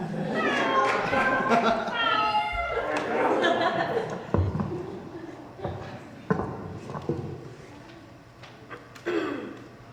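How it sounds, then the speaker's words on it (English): A cat meows a few times at a poetry slam amid overlapping voices and room chatter, the calls fairly close and clear over the talk. "Who just meowed? I heard that."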